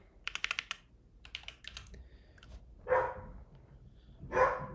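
A dog barks twice, somewhat distant and muffled, after a quick burst of computer keyboard typing in a quiet room.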